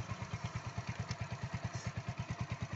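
A motorcycle engine runs during a battery voltage check with a steady, rapid thumping beat, even and moderately close, without speech over it.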